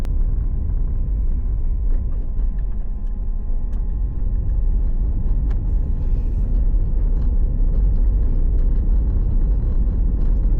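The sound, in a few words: car driving onto the highway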